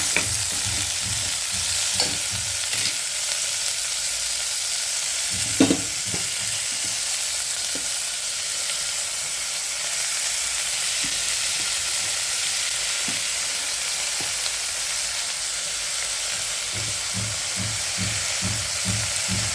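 Chopped radish greens tossed into hot fried onions in a pan, a continuous bright sizzle with repeated scraping stirs and knocks of a spoon against the pan, close and alone.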